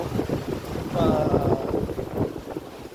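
Strong wind gusts buffet the microphone outdoors while people walk, a loud rushing roar with rumbling swells, under faint voices.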